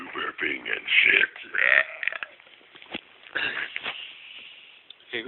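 Loud, drawn-out human belches, several in a row with gaps between them, alongside snorts and breathy vocal noises close to the mic and no clear speech.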